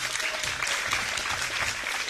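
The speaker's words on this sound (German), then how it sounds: "So, einmal Applaus für Blaukraut" Applause from a live audience at a German show, a broad continuous wash of many hands clapping, steady and moderately loud throughout.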